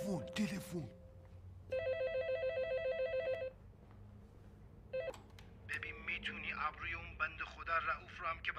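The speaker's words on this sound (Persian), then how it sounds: "تلفن." A telephone rings indoors with a bright electronic warble lasting under two seconds, followed by a brief second burst, amid background chatter and voices talking.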